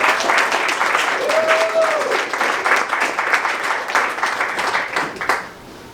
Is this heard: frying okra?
no